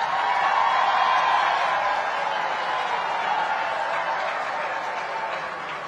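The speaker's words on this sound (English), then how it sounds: "we need another applause." Applause from delegates at a summit of heads of state and government, a broad even clapping texture heard from some distance, easing gradually toward the close with faint crowd murmur.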